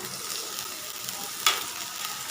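Garlic cloves and ginger sizzle steadily in a hot pan for onion-tomato chutney, a continuous close frying hiss with one brief sharp clink.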